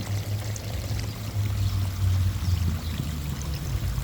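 Water and gravel pour steadily through a gold prospecting classifier and extractor into a sluice box, a continuous rushing flow with a low droning hum underneath, close and fairly loud with no voices.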